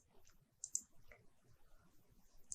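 Computer mouse clicks while confirming an OK button in engineering software, a few sharp, faint, close clicks with a light tap or two between them in a quiet room.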